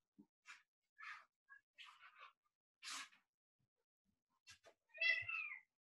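A cat meows several times in short, faint, separate calls with gaps of near silence between them, ending in a slightly longer, louder meow.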